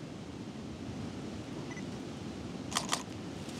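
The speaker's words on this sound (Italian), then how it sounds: "e poi effettuo lo scatto e vediamo che cosa salta fuori" Camera shutter firing with a fast lens wide open at f/1.4, beside a mountain stream during a photography trek along the Ansiei torrent: two quick, crisp clicks close together near the end, over steady rushing water and wind.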